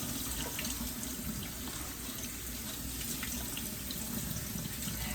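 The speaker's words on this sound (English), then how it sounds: "as I'm just rinsing them off for the second time, I'm kind of brushing them with my hand to make sure we got any salt off" Tap water runs steadily into a kitchen sink while fruit rinds are rinsed and brushed by hand, a continuous splashing hiss with no talk.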